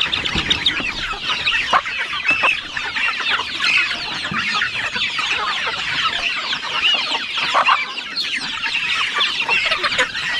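Chickens cluck in a dense, continuous chorus, close and fairly loud, with overlapping calls throughout and no talk.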